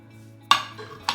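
A utensil working ingredients together in a mixing bowl, giving two sharp clinks about half a second apart over a quiet background, close by, with no voices.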